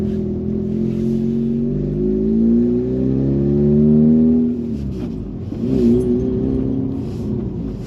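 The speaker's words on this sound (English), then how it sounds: "One distinct thing about the RX is that it does make a very nice engine noise" Mazda RX-8 (SE3P) rotary engine accelerating on a road, a smooth rising drone climbing steadily in pitch from inside the car, then easing off and picking up again.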